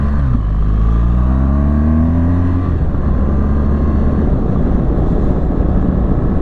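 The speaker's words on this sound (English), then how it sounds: "Magical motorcycle, these BMWs." A BMW GS boxer motorcycle engine drones while riding, a loud close rumbling note that climbs in pitch during the first few seconds, then holds steady under heavy wind rush.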